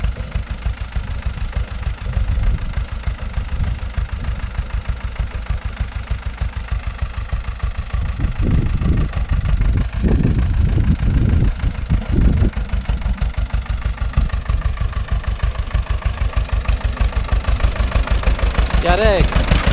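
An Ursus C-325 or C-360 tractor engine idles steadily and loud throughout, a continuous low knocking chug, with people talking over it in a field.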